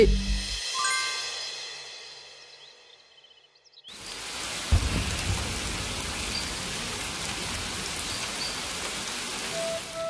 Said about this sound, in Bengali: বাইরে দেখো না, কত সুন্দর বৃষ্টি হচ্ছে।